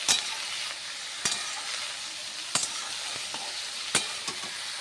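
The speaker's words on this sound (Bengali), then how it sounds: "এবার আমি একটু ভালো করে নেড়ে নেব।" Eggplant and potato fry in a wok under a steady sizzle, and a spatula stirs them with periodic sharp scrapes and knocks at intervals of about one to one and a half seconds, with no talk.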